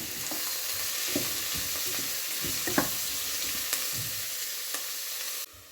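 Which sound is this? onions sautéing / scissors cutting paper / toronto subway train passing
onions sautéing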